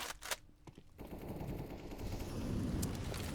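Rapid automatic gunfire in a Counter-Strike match on Inferno, fired into a smoke cloud: a burst of sharp shots at the start gives way to a denser, louder stretch of fire and clatter toward the end.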